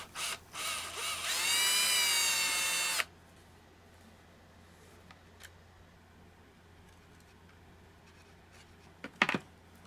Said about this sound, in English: The hole was a little clogged, so I drilled it out a bit.